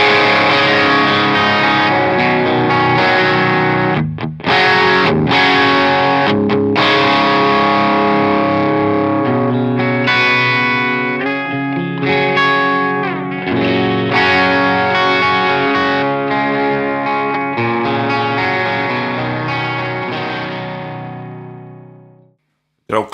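A Stratocaster electric guitar plays through a lightly overdriven Jet City JCA 100H amp, with chords and single notes ringing out for about twenty seconds before fading.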